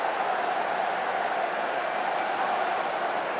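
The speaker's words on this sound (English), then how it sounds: "Something for their fans to cheer." A crowd of Bolton Wanderers football fans cheers a goal in a stadium, a dense continuous roar of applause and voices heard from a distance, steady throughout.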